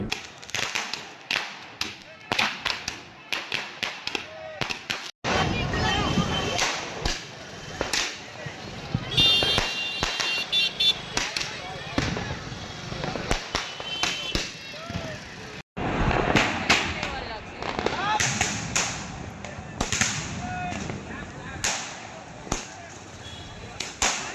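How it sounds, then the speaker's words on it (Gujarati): Sharp crackling bangs of Diwali firecrackers burst in rapid, irregular volleys throughout, loud and near, with scattered pops and a busy outdoor background in Bhavnagar city at night. "લોકોએ મોડી રાત્રિ સુધી ફટાકડા ફોડવાની મજા માણી હતી"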